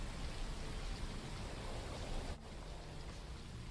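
Rain from a rainstorm falls in a dense, steady hiss of drops on surfaces, even and continuous with a brief dip partway through, with no voices.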